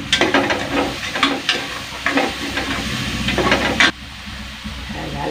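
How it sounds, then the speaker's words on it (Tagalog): Food frying in a pan being stirred, with scraping strokes over a constant sizzle that ends sharply near the close, leaving a softer hiss. "Haluin ko lang"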